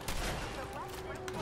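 Rapid gunfire bursts in the Fallout 4 Nuka-World video game crackle continuously, dense and busy, with voices faintly mixed in beneath the shooting.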